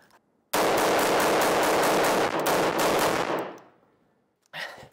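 AR-15 rifle fired in a video game, a loud close burst of rapid automatic shots lasting about three seconds that fades into ringing decay, followed by a brief later noise.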